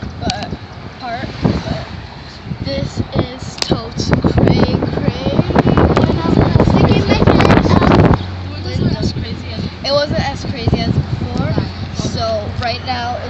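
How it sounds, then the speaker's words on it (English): Strong wind buffeting a moving car as it speeds up, a loud rough roar that swells and gusts, with a person speaking excitedly over it. "Oh my god, the wind is crazy, and it just got all over my face"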